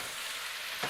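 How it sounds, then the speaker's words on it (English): Vegetables stir-frying in a pan give a steady, close sizzle throughout, with a slightly louder stir or toss near the end and no talking. "Just gonna stir fry these veggies in here so they get a little softer."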